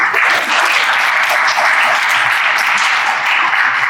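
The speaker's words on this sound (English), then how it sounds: "Please give him a warm applause." Audience applause welcoming a distinguished lecturer in smart materials and structures, a dense, steady clapping that fills the hall at full volume for the whole stretch with no talk over it.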